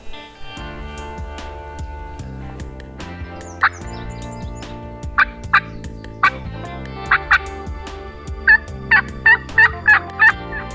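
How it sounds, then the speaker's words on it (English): Wild turkeys on public land gobble in repeated short, loud bursts, sparse at first and then coming in quick succession toward the end, over a background of steady, faint tones. "maybe the sun will pop out by then and the birds just be gobbling"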